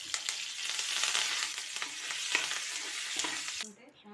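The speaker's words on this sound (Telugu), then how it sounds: "ఇప్పుడు కొంచెం కరివేపాకు వేసుకుందాం." Curry leaves hitting hot oil for a chana dal chutney tempering, a loud, dense, close sizzle that crackles throughout, then cuts off abruptly near the end.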